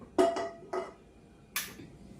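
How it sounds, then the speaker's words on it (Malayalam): A metal pan set down on a stove while making pudding, giving a few close clanking knocks spaced apart and then a brighter metallic clatter, with no talking. "ഇത്ര സ്റ്റൗ കത്തിക്കാം അപ്പം പാൻ വെക്കാം"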